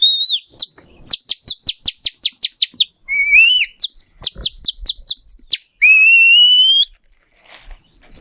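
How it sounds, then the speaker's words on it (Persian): A nightingale sings alone and close, with repeated rapid whistled notes, trills and rising sweeps in bursts separated by short pauses. "این که صدا بلبل بود"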